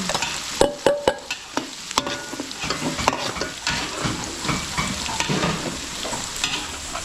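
Garlic and onion sauté in a pan for a provincial wedding catering job in Bulacan, a steady sizzle broken by sharp utensil scrapes and knocks, loudest early on, then settling into continuous frying.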